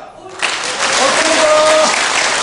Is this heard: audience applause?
yes